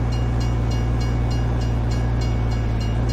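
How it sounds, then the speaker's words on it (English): Rumbling train noise in the Farming Simulator 19 video game as a train strikes the player's vehicle, a loud, steady low drone with a regular clattering pulse and no voices. "Oh, man, a train hit us."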